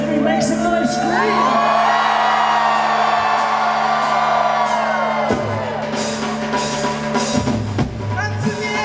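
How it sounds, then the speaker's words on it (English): Concert crowd at the start of a gig screaming and cheering loudly and continuously for several seconds, with whoops and shouts that rise and fall before dying down. "Here we go, 1, 2, 3, make some noise, scream!"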